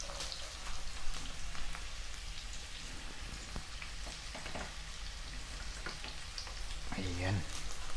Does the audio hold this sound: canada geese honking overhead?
no